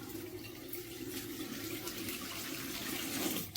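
A water tap runs steadily after a Vaillant Turbomax boiler repair, a constant close gush of flowing water into a sink, with no talking.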